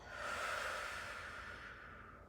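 A person exhales slowly out through the mouth during a guided posture exercise class, a soft, steady breath close to the mic lasting about two seconds and tapering off alone.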